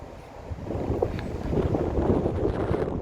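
Steady, strong wind averaging 20 to 30 km/h buffeting the microphone outdoors, a continuous low rumbling roar with no talking.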